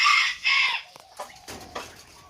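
Laying hens near a pheasant cage holding golden and yellow pheasants let out a loud, drawn-out squawk, followed by a few softer clucks close by.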